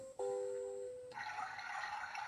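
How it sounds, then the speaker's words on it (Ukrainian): A short electronic beep tone sounds from a soft elephant night-light projector, then a soft, steady rush of water noise begins and continues quietly. "Шум води."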